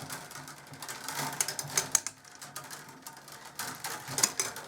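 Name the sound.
weaving reeds clattering against camera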